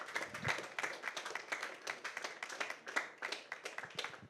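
Audience clapping and applause at a film trailer launch for Bharateeyans, a steady, moderately distant round of many hands clapping throughout.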